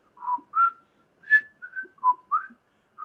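A person whistles a short tune of separate pitched notes, clear and close, with brief gaps between phrases and no talking.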